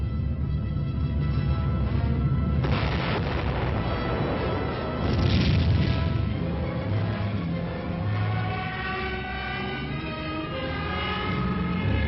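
A military missile strikes its target and explodes in a training demonstration, heard as loud rumbling blasts and sustained roaring bursts over a dense, lo-fi background.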